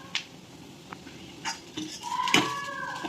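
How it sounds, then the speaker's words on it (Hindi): Small utensils for a Krishna offering handled on a home altar, a few sparse light clinks and taps of little metal vessels, close and fairly quiet, with one brighter ringing clink near the end. "तो ये आ गए कान्हा जी के छुटकू मुटकू बर्तन"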